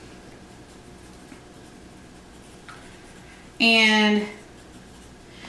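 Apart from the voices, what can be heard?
writing by hand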